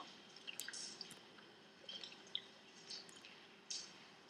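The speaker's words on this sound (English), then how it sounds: "It's just a little running water." Running water trickles in a sewer tunnel in The Walking Dead video game, faint drips and small splashes scattered irregularly over a low, quiet background.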